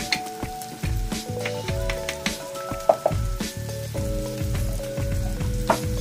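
Spices sizzle and fry in a pan for a raw banana dish while a utensil stirs them, giving a continuous crackling hiss broken by clinks and scrapes against the pan.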